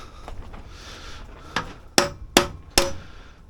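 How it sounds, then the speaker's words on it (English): A hammer tapping on small block Chevy engine parts: four sharp, close metallic knocks spaced roughly evenly over a second or so, after a softer first tap and light handling noise. "The hammer."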